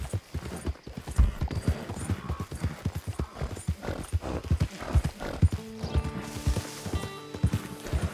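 Horse in the Red Dead Online video game, hooves clip-clopping in a steady trotting rhythm up close, with a couple of whinnying neighs and snorts and some musical tones near the end.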